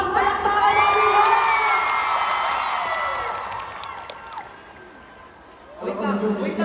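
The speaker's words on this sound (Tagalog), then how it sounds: "Kulang sa palakpak! Palakpakan everyone!" A crowd at an SB19 anniversary fan event claps and cheers loudly, with shrill whoops and shouting over the applause, fading to quiet before a voice speaks near the end.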